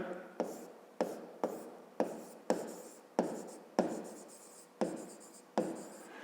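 Pen or marker writing a math solution by hand, about ten crisp strokes at an even rhythm, each starting with a sharp tap and fading out, close up in a quiet room with no speech.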